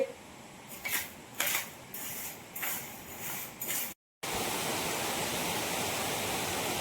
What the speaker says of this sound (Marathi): डाळ थंड झाली की जात्यावर दलून घेते